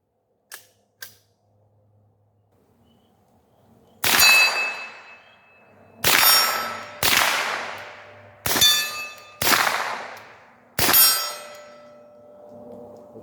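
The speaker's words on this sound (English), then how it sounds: "we'll finish off with a few quick rounds back and forth, CQB distance at some pumpkins here" Six sharp gunshots from a Gowutar A20C rifle fired at close range at pumpkins and steel targets, each crack followed by a ringing metallic clang and decaying echo, spaced one to two seconds apart after two faint clicks.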